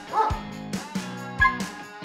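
Dog barking and yipping in short bursts, three or four close, moderately loud barks with whiny tonal edges, no talk over them.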